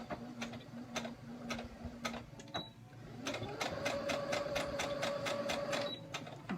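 Sewing machine stitching pieces of a boxers pattern together, a fast steady mechanical ticking that pauses, then resumes at a quicker rhythm, close and fairly quiet.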